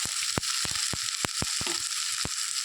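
Fish head and spinach chachchari fries with a steady close sizzle in a pan, broken by a series of sharp spatula clacks and scrapes at an irregular rhythm as the mixture is turned over.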